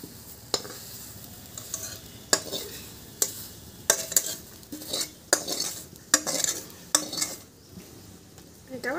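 Stirring and scraping in a pan while taro mash is cooked, with sharp utensil scrapes and knocks against the pan coming roughly every second under a faint sizzle, close and fairly loud.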